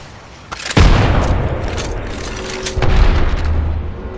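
A grenade explosion in the video game Apex Legends, a loud booming blast with a sharp onset followed by a second heavy burst and rumbling tail.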